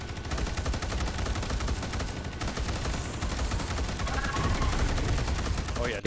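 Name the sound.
gunfire in a video game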